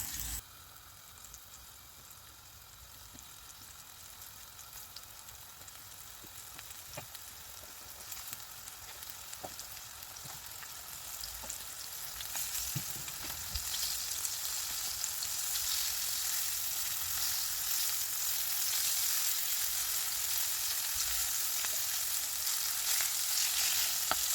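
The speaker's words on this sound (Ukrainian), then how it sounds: "Обсмажую печінку на дуже сильному вогні приблизно по півхвилинки з кожної сторони." Steady sizzling and crackling of liver frying in a pan on very high heat, growing louder and denser over time, with a few soft clinks of utensils.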